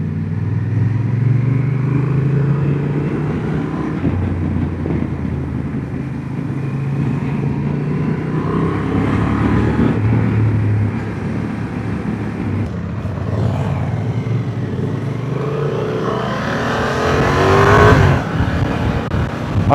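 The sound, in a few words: 2025 Honda Transalp 750 motorcycle riding off-road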